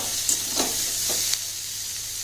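Cauliflower and potato pieces frying in a pan, a soft continuous sizzle broken by a few light stirring scrapes and clicks, moderately close with no talking.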